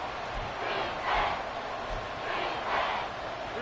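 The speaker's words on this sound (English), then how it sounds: "this is where the KC crowd can make it very tough" A Kansas City crowd roars at an NFL football stadium during a Chiefs game, a dense, steady wash of distant massed voices that swells into two louder surges.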